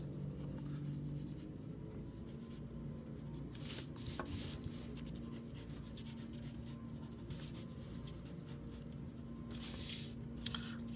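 Pencil sketching on paper while blocking in details, a steady close scratching and rubbing of graphite strokes throughout, quiet and continuous with no talking.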